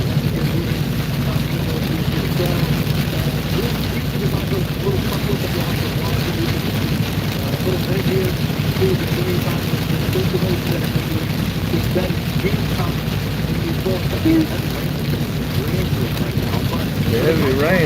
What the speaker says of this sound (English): The heavy rain where we're at.